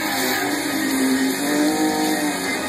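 A race car engine roars hard and steady up the Climb to the Clouds hill climb course in 2011, a loud, continuous, close drone with no voices over it.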